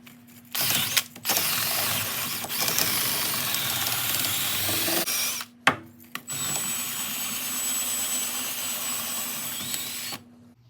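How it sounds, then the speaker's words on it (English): Wire wheel on a power tool scrubbing corrosion from an aluminum wheel bearing housing on a 2004 Oldsmobile Alero, a loud continuous abrasive hiss and whir in sustained bursts, with brief stops and restarts. "I'm just going to take a wire wheel and clean that up"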